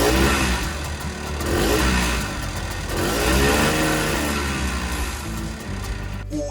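Polaris Trail Boss 250 ATV engine revving near the mic, a mid-pitched motor rising and falling in two or three swells of revs over a steady idle, with no talk.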